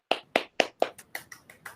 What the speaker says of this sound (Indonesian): Sekali lagi tepuk tangan buat kelompok 1 anak-anak sekalian.